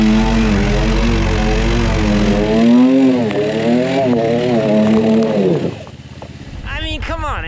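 A Kubota RTV XG850 Sidekick UTV engine revs loudly and steadily with rising and falling pitch as the wheels spin through mud in a brake-torque launch, then the tone drops and shifts near the end.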